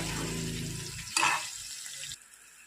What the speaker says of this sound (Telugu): ఇప్పుడు మరొక నిమిషం పాటు ఇవన్నీ వేగనిద్దాం.